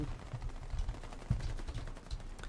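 A Thompson M1928 submachine gun fires in the video game Warface, with rapid bursts of fairly faint, muffled shots and one sharper report partway through.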